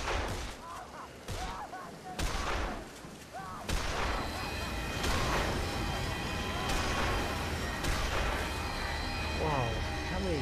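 Gunfire in the zombie action game Dead Island Riptide, loud repeated shot bursts and impacts layered over a busy combat mix, with a player talking during the fight.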